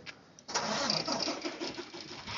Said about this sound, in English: start the truck back up